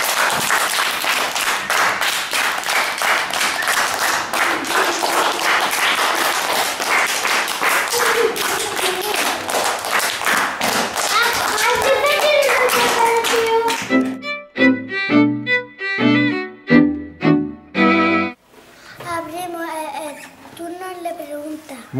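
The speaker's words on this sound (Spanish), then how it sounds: "¡Un aplauso!" Children clap together after a storytime tale, a dense burst of applause and young voices carrying for several seconds before giving way to someone speaking and chattering.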